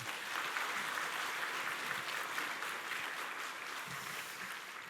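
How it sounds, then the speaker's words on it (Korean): A church congregation applauds the choir at an Easter celebration service: dense, even clapping from many hands, sustained for several seconds at a steady level with no voices over it. "우리 수고한 찬양대원들에게 우리 박수 한번 쳐주시기 바랍니다."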